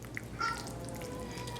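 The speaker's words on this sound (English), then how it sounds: "And you can probably hear my cat in the background wanting out." A faint indoor cat meows briefly in the background, wanting to be let out, one or two short calls under a steady kitchen hum.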